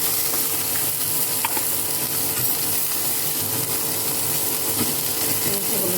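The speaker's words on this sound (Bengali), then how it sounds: "সবজিটা আমি আগে ভেজে নেব। সবজিগুলোতে আমি হালকা তেল দিয়ে নিয়ে দেবো।" Vegetables frying in a little oil for sambar, a dense, even sizzle holding steady and fairly loud for the whole stretch, with faint scraping underneath and no talk.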